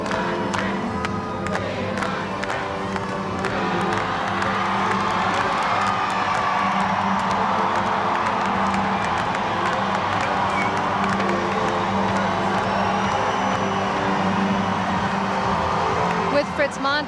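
A large Minnesota crowd at a 1984 election-night Walter Mondale rally keeps up a loud, sustained rhythmic chant and cheering for the whole stretch, a dense wall of voices close around, with a reporter talking over it.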